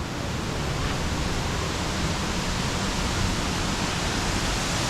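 A Welsh waterfall roars in a steady, dense wash of falling water, loud and close, constant throughout with no voices.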